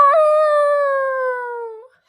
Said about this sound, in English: "Ow!" howled the wolf.